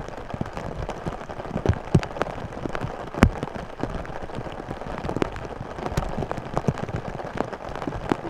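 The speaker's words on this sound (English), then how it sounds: "the rain is coming down" Heavy rain drums on a camping tent and tarp, with dense, close patter broken by many sharp, irregular drop impacts of varying loudness, and no voices.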